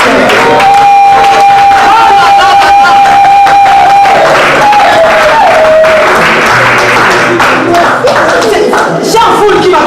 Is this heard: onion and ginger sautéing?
no